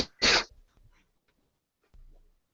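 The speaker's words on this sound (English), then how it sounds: "just sneezed in between" A single sharp sneeze bursts out near the start, followed by a brief rustle and a low, muffled sound afterward.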